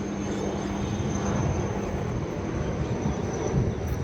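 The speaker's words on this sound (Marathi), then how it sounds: "हे हेलिकॉप्टर पहा" A helicopter flies past above the Sangam Ghat riverside in Pune, its engine roar and rotor wash forming a steady, loud, broad rumble with a faint high whine throughout, and no talking.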